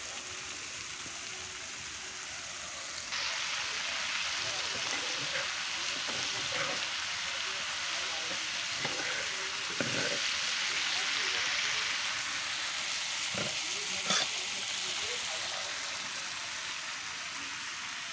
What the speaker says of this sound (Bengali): এখন আমি উচ্ছে আলু ঝিরিঝিরি কাটা সেটাই দিয়ে দিচ্ছি